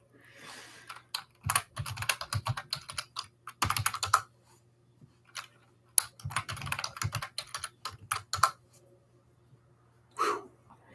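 Computer keyboard typing to sign back in, in bursts of rapid close key clicks separated by pauses, with a faint steady hum underneath and a short breath near the end.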